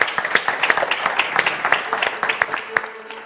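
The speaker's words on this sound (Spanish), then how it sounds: "un aplauso" An audience applauding after a wellbeing panel talk at a conference summit: steady, dense clapping from many hands that continues throughout, with some voices underneath.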